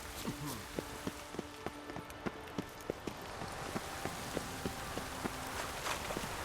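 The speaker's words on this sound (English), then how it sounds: "Looks like rain." Steady rain hissing across the landscape in The Witcher 3, a broad wash of drops with soft repeated footfalls or hoof thuds ticking through it and a voice briefly speaking over the top.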